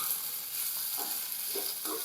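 Green chillies sizzle in oil in a home kitchen pan, a steady bright hiss throughout with a few soft stirring scrapes.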